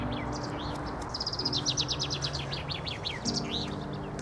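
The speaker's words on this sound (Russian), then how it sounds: "Как птички поют." Small birds chirp and trill in quick repeated phrases beside an old pond at an abandoned house on a city's edge, fairly close and clear over a low steady background hum.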